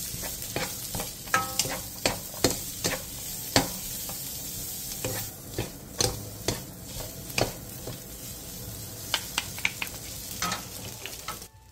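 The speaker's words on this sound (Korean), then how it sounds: "팬에 기름을 두른 뒤 어묵과 다진 마늘 반 스푼을 넣고 센 불에서 1분" Fish cake and minced garlic stir-fried over high heat in an oiled pan: a constant close sizzle punctuated by regular sharp spatula scrapes and taps against the pan, alone with no voices.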